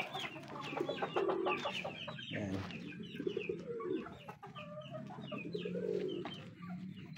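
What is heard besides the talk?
chickens clucking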